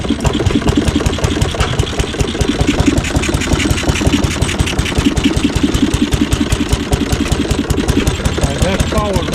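A restored antique radial engine running on natural gas chugs with a fast, steady firing pulse and a mechanical clatter, loud and close throughout.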